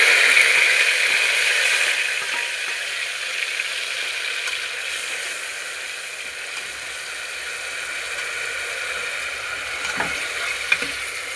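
Onion and tomato frying in hot oil with cloves and chilli, stirred in a pan for a corn curry, giving a steady loud sizzle throughout with a few faint scraping clicks of the spoon.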